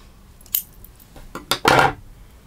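Scissors snip the yarn at the end of a crochet bag, a few light metallic clicks leading to a brighter cutting rasp, close and without talk.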